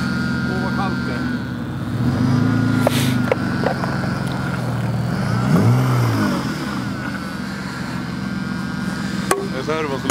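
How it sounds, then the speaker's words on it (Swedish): A car's power steering servo whines and groans while the wheel turns, rising and falling tonal moans over a low engine hum, with people talking throughout and a sharp click near the end. "Det är servon som låter på den här då."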